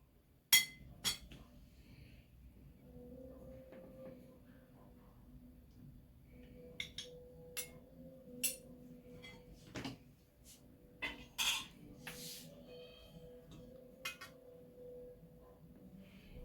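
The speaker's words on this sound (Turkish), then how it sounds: "Patlıcanları dağıtmadan iki kaşık yardımıyla tabağımıza almaya çalışacağız." Two spoons lift stuffed eggplants from Urfa-style kazan kebab onto a serving plate, giving sparse, faint clinks and taps of metal on dishware over a quiet kitchen background.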